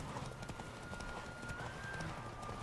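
Galloping horse hooves during a horse race in the video game Witcher 3: Wild Hunt, a steady, fairly faint run of quick clip-clop beats under game ambience.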